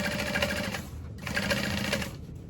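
A sewing machine top stitches the folded edge of waterproof canvas for a tote bag pocket, running in two steady bursts of rapid, even needle chatter with a short pause between them.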